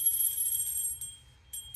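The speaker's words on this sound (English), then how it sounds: "I have a bell here, like this, and you can just ring a bell." A small hand bell rings close by in a quiet room, giving a bright, high metallic tone that shakes continuously for about a second, fades, then rings again in a short burst.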